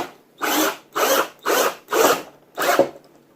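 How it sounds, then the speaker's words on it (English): Power drill driving a screw into a pre-drilled, countersunk hole while assembling a DIY 20U server rack, five short close whirring bursts evenly spaced with brief pauses between. "run our screw in."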